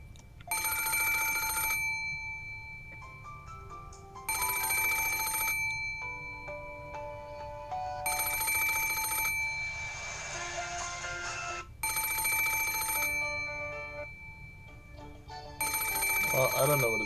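A phone alarm chimes in repeated loud bursts about every four seconds, bright and electronic, with a continuous tonal melody and background sound running between the rings.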